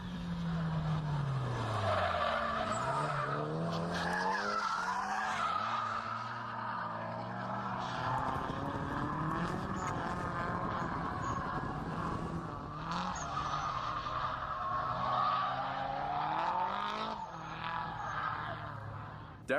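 Drift cars battle at a Drift Nationals round, engines wailing and rising and falling in pitch as tires squeal and skid continuously, loud and close throughout.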